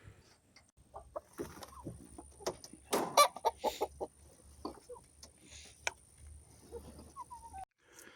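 A coop of about twelve hens clucks in scattered, overlapping bursts, close and fairly loud, with a steady low hum running beneath and a few short squawks.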